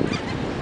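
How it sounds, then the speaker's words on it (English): Seagulls being fed bread at St. Augustine Beach, heard as harsh, nasal squawking calls overlapping close by in the open air for a brief moment. "feeding the seagulls"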